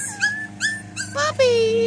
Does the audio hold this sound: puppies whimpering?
yes